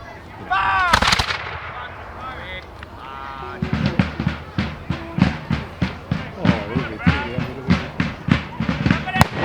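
Revolutionary War reenactors fire a musket volley, then a rapid series of loud, sharp reports follows in an uneven rhythm, close by, after shouted commands at the start.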